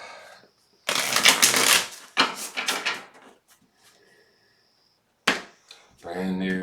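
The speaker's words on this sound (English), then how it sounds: "And let's give it one more shuffle." Several bursts of riffling tarot card shuffles, loud and close, separated by brief pauses, with a soft voice at the very start and end.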